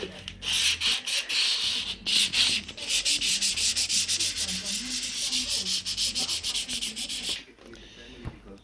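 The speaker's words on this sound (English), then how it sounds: "we've now rubbed all the plinths down all over, and it's nice and smooth in that now" Wooden plinths of Tannoy Windsor speaker cabinets being rubbed down by hand with abrasive paper, a steady close rasping scrub with rapid back-and-forth strokes and brief pauses, no talking.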